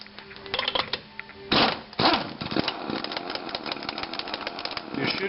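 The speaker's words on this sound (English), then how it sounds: "give it a big shot to bust it loose and then go slow" An impact wrench rattles hard against Corvette lug nuts with a fast, loud hammering burst, then lighter, slower chattering pulses as the nuts spin loose. The sound is close and steady.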